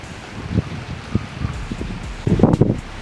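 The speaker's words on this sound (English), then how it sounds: "Sorry if it's windy." Gusty wind buffets the microphone, with soft rustling and a few louder bursts of blustery noise near the end.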